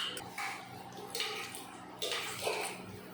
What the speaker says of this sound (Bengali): তার জন্য একটু বেশি করে জল দিয়েছি